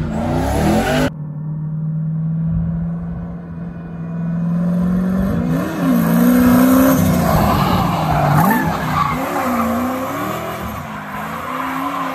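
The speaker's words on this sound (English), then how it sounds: "Rev limiter." A 700 hp turbocharged Silverado drift truck revs hard against its rev limiter on the street, a loud, sustained engine roar that rises and falls in a few surges, with tire noise, and no voices.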